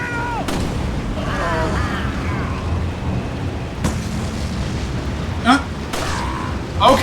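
Barrels stacked on a wagon blow up in Resident Evil 4, a heavy booming blast followed by rumbling gunfire-like bangs and debris over dense game noise, with a voice talking through it.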